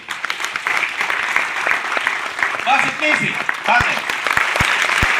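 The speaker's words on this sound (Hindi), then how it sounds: "जोरदार तालियां बजाइए।" Audience applause at a meeting: a steady, close clapping crowd throughout, with someone speaking over it briefly.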